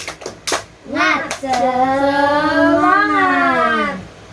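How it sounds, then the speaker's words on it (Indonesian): Children in a classroom do a rhythmic 'tepuk semangat' spirit clap, with a few sharp claps up front, followed by a long, loud chanted group voice. "Tepuk semangat. Semangat."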